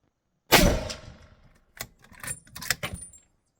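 A Model 70 rifle fires a single 130-grain American Whitetail hunting round, a sharp close crack that rings briefly, followed by clanks and metallic handling noises.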